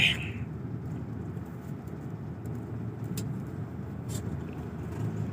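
Road traffic in Tagaytay, slowed by roadwork on the Mendez flyover, heard as a steady low rumble of car and truck engines. It carries on throughout, with a few faint higher clicks and knocks on top.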